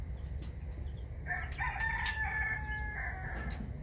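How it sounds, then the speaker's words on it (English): A rooster crows clearly at mid-distance on a farm over a low background hum, with a second rooster's crow overlapping near the end. "Roosters are going."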